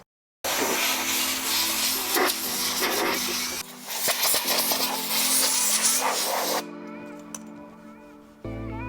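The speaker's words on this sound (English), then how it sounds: "I'm just kind of sanding down any parts that the paint remover isn't getting off." Sanding by hand over car parts to strip leftover paint after a paint remover, a steady rough rubbing and scraping that runs on continuously with short pauses and shifts in pressure, close and fairly loud.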